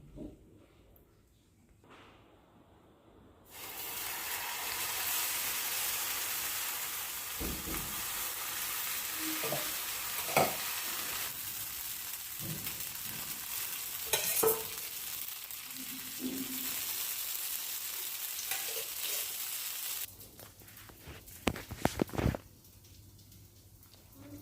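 Buttermilk sponge dosa batter poured onto a hot pan, a quiet start giving way to a steady soft sizzle with scattered taps and scrapes, then fading back toward quiet at the end.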